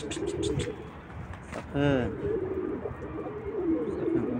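Tumbler pigeons coo in a short, soft rolling call, close by over a dense noisy background, while someone talks.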